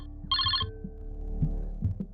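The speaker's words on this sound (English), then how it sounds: "And then moments later, the phone rings." A telephone bell rings in a short burst of rapid trilling rings, fairly loud and clear, over a low throbbing heartbeat-like pulse that keeps pulsing after the ring stops.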